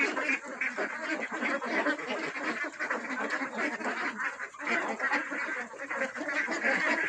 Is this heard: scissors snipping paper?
no